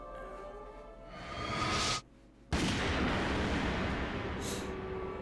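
SOCOM pistol gunfire in the Metal Gear Solid video game, heard as loud, harsh noisy blasts that hold steady, break off briefly, then resume.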